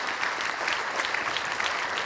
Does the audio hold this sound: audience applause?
yes